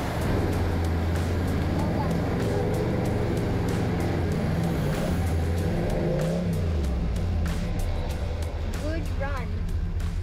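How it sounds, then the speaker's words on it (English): Truck engine straining in first gear while towing a 6 m trailer up a rough off-road track, a loud, close, sustained rumble with rising revs, and voices talking over it. "putting that thing into first gear and launching towards that brick wall"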